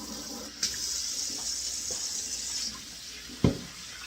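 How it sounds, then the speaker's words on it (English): Cold water runs steadily from a tap into a cooking pot for several seconds, a bright continuous hiss with a clunk near the start and a louder knock of the pot toward the end. "So I'm just putting in some cold water."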